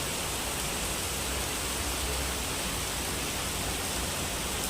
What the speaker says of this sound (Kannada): ಜೋರ್ ಮಳೆ ಸ್ಟಾರ್ಟ್ ಆಗಿದೆ